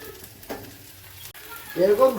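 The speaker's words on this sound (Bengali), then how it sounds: "এটা একটু ভালো করে ভেজে দেবো।" Moong dal frying in a pan with peas, panch phoron, dry red chilli, bay leaf and grated ginger, a faint low sizzle with a soft stir at the start, then a louder crackling burst near the end.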